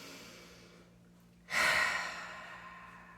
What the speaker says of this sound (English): Take a nice inhale here and exhale it out your mouth again.